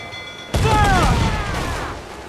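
Ship cannons fire in a naval battle in the video game Assassin's Creed IV: Black Flag, a sudden loud broadside boom that rolls into a sustained crashing roar with whistling debris over several seconds.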